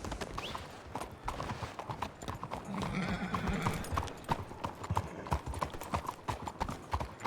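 Horse hooves clip-clopping at a steady riding pace in a Red Dead roleplay game, with an occasional whinny, under ongoing conversation between riders.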